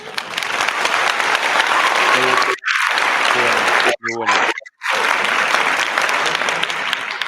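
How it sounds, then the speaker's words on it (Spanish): Loud, sustained applause from a studio audience welcoming a guest, a dense wash of clapping that breaks off briefly twice while a voice says a few words, then swells again. "Gracias por los aplausos."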